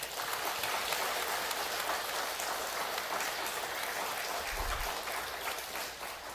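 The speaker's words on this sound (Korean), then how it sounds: "한번 감사의 마음으로 축하의 박수를 드립시다" A church congregation at a 70th anniversary thanksgiving service breaks into sustained celebratory applause, a dense, even patter of many hands filling the room at moderate volume without speech.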